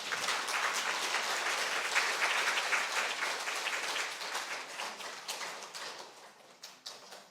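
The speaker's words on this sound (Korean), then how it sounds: "박수로 우리 교수님 맞이하겠습니다" A lecture audience at a Catholic university Franciscan spirituality symposium breaks into dense, sustained applause to welcome a professor, a full hall of clapping that gradually thins and tapers off toward the end.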